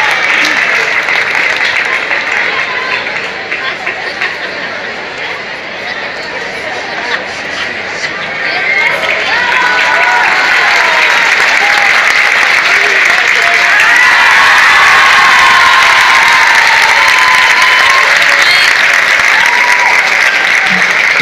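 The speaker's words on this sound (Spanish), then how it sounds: "Brindemos nuevamente otro fuerte aplauso a este joven talento." Loud, sustained applause for a young talent at a secondary-school awards ceremony, dipping briefly then swelling again, with crowd chatter and scattered cheers through the clapping.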